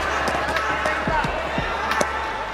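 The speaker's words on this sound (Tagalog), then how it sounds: "Tunog na tunog yung suntok ni Jason Vason." Several punches land with dull thuds during a professional boxing match, a few spaced impacts heard over a constant crowd-like background din.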